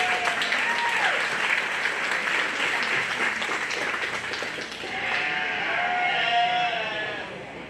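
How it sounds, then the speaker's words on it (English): An audience applauds at a 4-H/FFA sheep and lamb show in an arena, with steady clapping for several seconds and lambs bleating now and then over it. "Go ahead and give her a round of applause."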